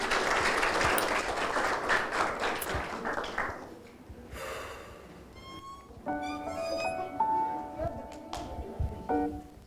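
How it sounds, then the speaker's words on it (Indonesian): An audience claps for Ibu Susan at a talk event, a dense burst of applause for about four seconds that fades into quieter sounds and background music with some voices. "Teman-teman kasih tepuk tangan dulu untuk Ibu Susan."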